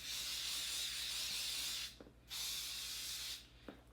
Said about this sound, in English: It's extra strong hold hairspray.